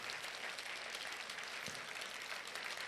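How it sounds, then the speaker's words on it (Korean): Steady applause from a congregation at a church graduation ceremony, a dense even patter of clapping with no voices over it. "큰 박수 보내주시기를 바랍니다"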